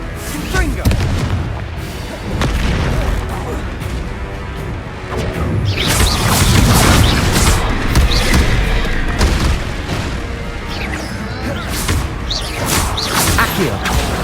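Confringo blasting spell explosions in Hogwarts Legacy: loud, rumbling booms and crashes with whooshing spell sounds pile up continuously, dense and unbroken throughout.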